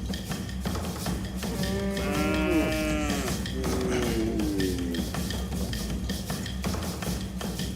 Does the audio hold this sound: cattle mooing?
yes